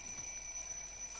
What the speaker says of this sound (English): That is a broken alarm clock.